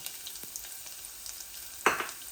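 Garlic and shrimp fry in a pan with a steady, close hiss of oil, a few small pops, and a louder splattering sizzle burst near the end.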